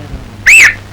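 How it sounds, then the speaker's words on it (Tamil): A single rising-falling whistle from a person, loud and close, lasting about a quarter second against a quiet room hum, in a Tamil comedy film scene set in a classroom during roll call. "ஏன் விசில் அடிச்ச?"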